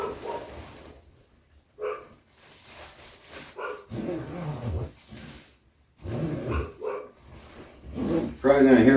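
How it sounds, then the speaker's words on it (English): A dog barks in several scattered bursts, some deep and some sharper, at a moderate distance, mixed in with a person talking nearby. "Probably going to hear my dog barking."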